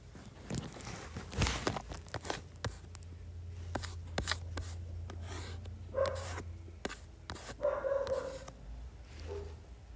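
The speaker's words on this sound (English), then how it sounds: "My dog just barked." A pet dog barks indoors, a few sharp barks scattered over ten seconds, mid-distance, with soft movement and footsteps around them.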